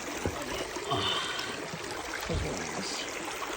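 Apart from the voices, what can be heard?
stream water flowing on Monrovia Waterfall trail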